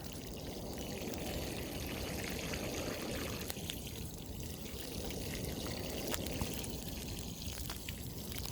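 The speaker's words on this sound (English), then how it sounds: "And add some water." Water poured from a container onto freshly planted elephant ear bulbs in soil, a steady close trickle and splash running continuously without any talking.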